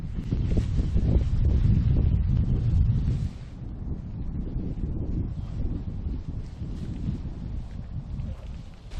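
Wind gusts roar against a tarp shelter pitched outdoors without trees around; it blows loud and steady for about three seconds, then eases into a lower, continuous rushing buffet.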